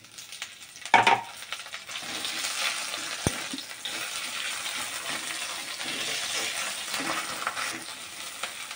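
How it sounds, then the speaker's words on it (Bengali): Dried fish drops into hot oil with garlic already fried red. A sharp clatter sounds as it goes in, then a steady close sizzle with light stirring continues. "তো আমি দেখো রসুনগুলো লাল লাল করে ভেজে নিয়েছি, এখন আমি এই মাছগুলো দিয়ে দেব।"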